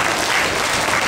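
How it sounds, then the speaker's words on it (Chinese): Schoolchildren at a primary school graduation ceremony clap for the guests on stage, a dense, continuous burst of applause filling the hall. "那小朋友再以热烈掌声来感谢我们台上所有的贵宾"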